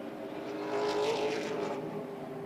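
A Super Late Model race car at speed during practice at Hickory, its engine droning at a distance and swelling slightly louder as it passes before easing back, with no voices over it.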